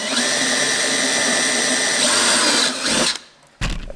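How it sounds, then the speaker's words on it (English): A drill runs at a steady high whine for a few seconds boring small pilot holes in van sheet metal, then slows and stops, followed by a short clatter; close and loud. "So I'll drill small pilot holes"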